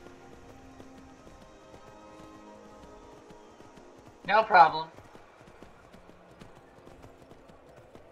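A horse's hooves in the video game Skyrim give a brief cluster of clip-clop steps midway through, set against quiet game ambience, with a voice speaking briefly.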